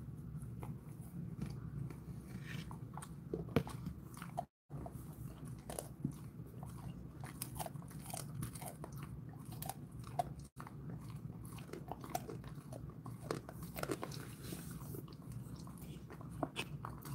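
A Jindo dog chews and crunches a treat close up, with a steady run of quiet bites and crunches broken by two very brief silent gaps.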